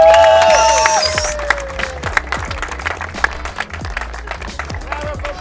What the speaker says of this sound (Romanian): Aplauze pentru podiumul la Rusi Zomie, Radu, Alex Cagina și Bogdan Radu.